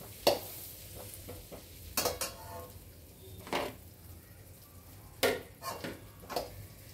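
Butter melts in a pan for masala bread toast, a faint low sizzle broken by several distinct utensil scrapes and clinks, quiet and close.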